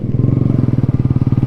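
A Yamaha motorcycle fitted with an Akrapovic exhaust runs loud and close, its engine throbbing in a steady, rapid chain of pulses with no talk over it.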